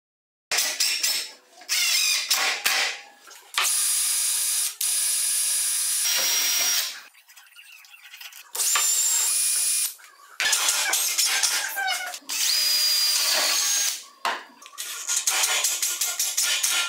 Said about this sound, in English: I unclamped it on the one side and went through and drilled the next pilot hole.